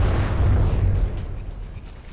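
In the naval combat game From The Depths, shells strike a small frigate in a heavy, rumbling explosion that booms at first and then fades into a lingering roar.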